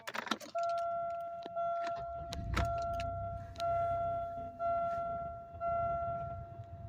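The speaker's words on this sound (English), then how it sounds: "I'm going to shut off the car." A Buick Park Avenue or LeSabre with a faulty fuel gauge is switched off: a low engine hum fades out after a key-turn clatter, while a steady two-tone chime keeps pulsing in short repeated bursts.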